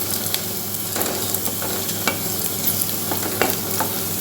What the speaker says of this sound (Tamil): வெங்காயம், பச்சை மிளகாய் அந்த மாதிரி நல்லா வதக்கிக்கோங்க